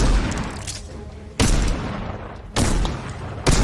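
Gunfire in the Fortnite video game, three sharp, loud bursts of shots spaced about a second apart, with quieter game ambience between them.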